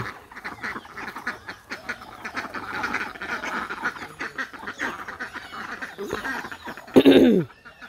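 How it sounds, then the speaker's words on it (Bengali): A flock of ducks by a village pond quacks in a busy, overlapping chatter, with one loud, close burst of quacks standing out near the end. "এই যে হাঁস কত"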